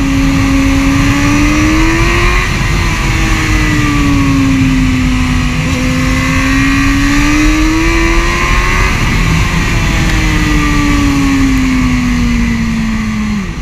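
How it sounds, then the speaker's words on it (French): Suzuki GSR 600 mid-size roadster motorcycle engine held high in the revs, a loud continuous whine rising and falling in pitch while riding, no voices. "Vous voyez, j'ai monté haut dans les tours pour avoir quelque chose quoi."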